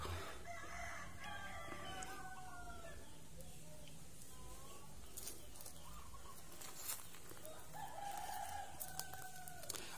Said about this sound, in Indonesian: Burung perkutut, ayam berkokok ya.